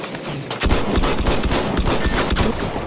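Rapid bursts of gunfire from a nine-round-magazine gun in Battlefield 1, a multiplayer match, cracking repeatedly and loudly in a dense, steady stream over the whole stretch.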